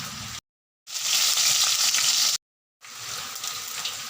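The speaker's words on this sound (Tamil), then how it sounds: "கடுகு போட்டதும் அரிஞ்சு வச்ச மிளகு போடணும்." Chopped pepper dropped into hot oil after mustard seeds for Tamil-style brinjal variety rice: a loud, bright, continuous sizzle in bursts broken by abrupt silent cuts.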